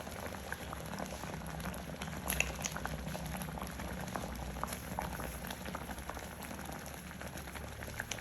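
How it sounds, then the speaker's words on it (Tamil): Sago pearls boiling in a pot of water for a condensed-milk halwa, a steady close bubbling and popping that runs continuously with no talk. "இது இப்போ ஒரு 10 மினிட்ஸ் போல் அவிஞ்சிட்டுது"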